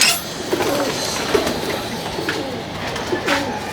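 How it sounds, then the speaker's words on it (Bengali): A khaki pigeon cooing nearby in soft repeated rolling coos against a hissy background, with no voices. "এটা হচ্ছে একটা খাকি কবুতর।"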